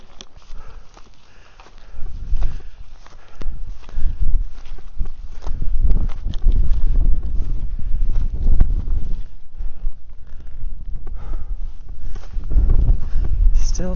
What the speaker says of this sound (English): the wind comes and goes, but there's still long periods without